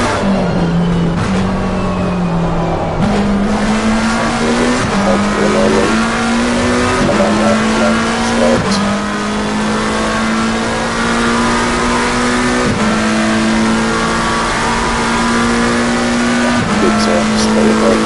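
Race cars in the Assetto Corsa Competizione racing game at the Nurburgring roar steadily, engine pitch climbing through repeated gear shifts, loud and continuous with a commentator's voice over it.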